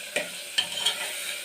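A spoon stirs tempered khichdi with onion, chilli and peanuts in a hot pan, giving a few sharp scrapes over a soft background sizzle, close up and with no talking.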